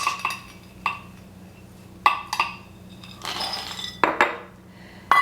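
Freeze-dried white beans are measured into a cup, making a series of sharp clinks and rattles with scattered pauses between them. A steady low hum sits beneath the clatter.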